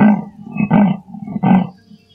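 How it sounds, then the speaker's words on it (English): A tiger roars at Entebbe zoo in Uganda, giving three loud, rough bursts in close succession. Each deep growl rises quickly and fades, and the whole sequence lasts about two seconds with no voices. "These are the only tigers in East Africa."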